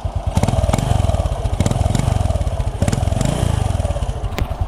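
A 1999 Wave Thai 110 motorcycle with a 1985 exhaust idles close by, its exhaust thumping in a fast, even, throaty rhythm with slight rises and dips throughout.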